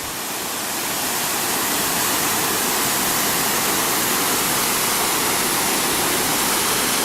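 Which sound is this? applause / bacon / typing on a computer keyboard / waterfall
waterfall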